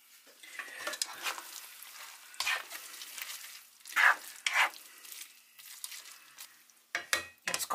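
Cooked pasta tipped into a pan of vegan bolognese made from rice cakes: bursts of wet slithering and clattering scrapes, a few sharp knocks near the end, close and fairly quiet, no talking.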